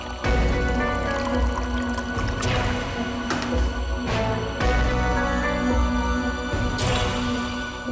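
Water is poured into a glass in a home. The liquid splashes and gurgles loudly and steadily for about eight seconds with brief pauses and surges, with no talking over it.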